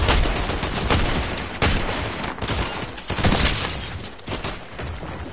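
Sustained Fortnite gunfire rattles in heavy, repeated bursts with some louder booming shots over about five seconds, close and loud.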